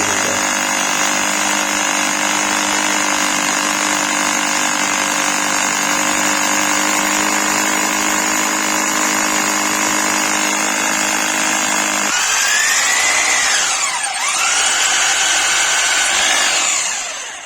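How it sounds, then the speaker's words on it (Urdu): A Tiger TGP 226 hammer drill bores into stone in plain drilling mode, a loud steady whine with a high buzzing tone that runs continuously, then shifts pitch and strains near the end as the bit bites into the rock. "یہ میں پہلے سمپل ڈرلنگ پہ رکھتا ہوں تاکہ پتھر پر نشان پڑ جائے ڈرل بٹ کا"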